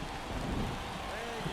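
Steady rain hiss in a baseball video game, a continuous broadband wash of falling rain that stays even and moderately loud throughout, with faint low rumbles underneath.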